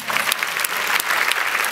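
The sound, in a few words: audience applause at festival event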